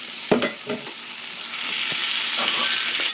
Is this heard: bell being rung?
no